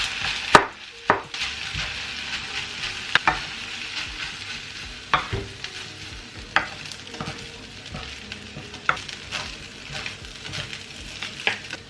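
A spatula scrapes and clacks against a hot pan while beef chao fan fried rice with kangkong sizzles steadily underneath. The tool strikes the pan in irregular, close, moderately loud knocks.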